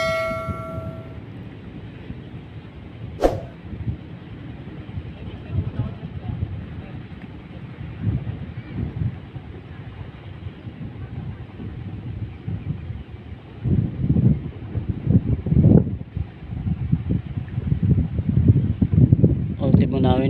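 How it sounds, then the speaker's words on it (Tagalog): Strong wind buffets the microphone at sea near an island, with a steady low roar and louder gusts toward the end; a brief sharp knock sounds early on. "malakas po ang patpat ng hangin po"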